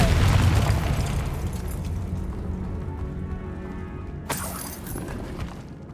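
A Confringo fire spell explodes in the Hogwarts Legacy video game, a loud deep boom with crackling debris at the start that rumbles and decays, followed by a sharp crack midway.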